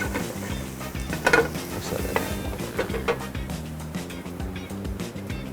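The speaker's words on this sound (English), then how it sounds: "Once everything is sauteed down, turn the heat down because we don't want to burn the garlic." Garlic sautes in a hot pan with a steady sizzle, punctuated by a few sharp clinks and scrapes of a utensil stirring against the pan.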